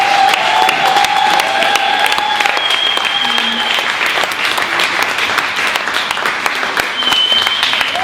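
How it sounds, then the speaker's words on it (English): Loud, continuous applause with some cheering from the audience at a birthday celebration, dense clapping close by for the full stretch, with a few brief voices above it. "Let's give a round of applause for her."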